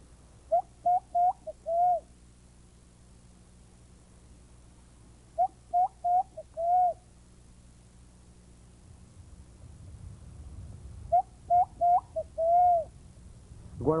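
A man whistles imitations of the pomba amargosa pigeon call in three clear groups of several short cooing notes, each group ending in a longer drawn note, loud and close over a low rural background hum.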